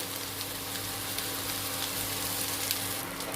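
Vermicelli with black pepper, chili flakes and spices frying over a low flame in a pan, a steady, close, even sizzle with soft crackles and no talking.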